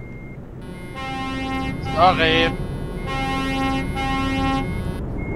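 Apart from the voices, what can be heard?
truck air horns honking in Euro Truck Simulator 2 (video game)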